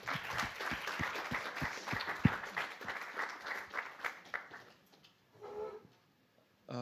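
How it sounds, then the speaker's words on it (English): A conference audience at a cybersecurity event applauds for about five seconds, the clapping moderately loud before thinning out and fading into quiet, followed by brief, soft talking. "One more applause."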